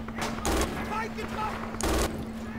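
Gunfire in Red Orchestra 2: Rising Storm, a few sharp loud shots spaced about a second and a half apart over a steady background hum, no speech.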